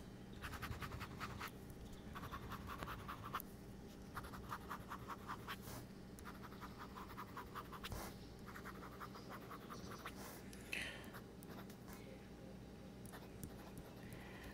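A Remarkable Marker Plus stylus writes on a Remarkable 2 tablet, making close, scratchy strokes in repeated bursts of dry rasping over a faint steady background hum.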